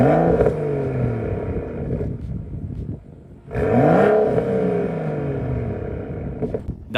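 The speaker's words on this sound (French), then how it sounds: "Voici des coups d'accélérateur en mode confort" A BMW 335i with a stock downpipe and full Borla catback exhaust, set to comfort mode, gives two sharp throttle blips, each a rising roar that falls away, with a quieter lull between them.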